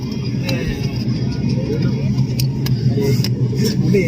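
A steady low airplane engine drone runs throughout, heard from inside the cabin, loud and close, with occasional clicks and voices talking faintly underneath.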